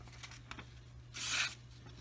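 A sharpened knife slicing through phone book paper gives a short, crisp tearing swish, preceded by a few faint scraping touches against a quiet background with a low electrical hum.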